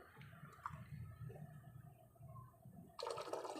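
Water from a submersible pump flows into a pipe with a low, steady rushing gurgle, then a brighter hiss of running water surges in near the end.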